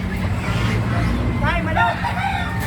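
Chickens cluck and a rooster crows at a poultry sale, mixed into loud background chatter, engine noise and someone speaking nearby.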